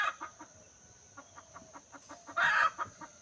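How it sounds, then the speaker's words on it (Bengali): Chickens cluck softly on a foggy morning, with quiet, irregular clucks and one slightly louder squawk near the end, faint against a steady background hum; no talking. "দেখেন সকালবেলা মুরগির কলকাকলি শোনা যাচ্ছে।"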